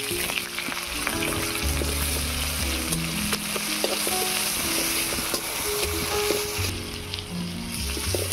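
Garlic paste and chopped onion frying in oil with dry chilli and kalonji, a continuous close sizzle with scraping and stirring of a spatula against the pan throughout.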